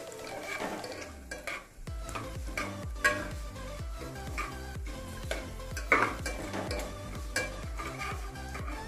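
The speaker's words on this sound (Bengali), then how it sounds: "হিংটা দিয়েও ভালো করে আমি একটু ভেজে নিচ্ছি।" Asafoetida fries in a pan for a spicy potato curry served with kochuri. A spoon taps and scrapes in a quick, steady rhythm over a soft, constant sizzle, heard close up.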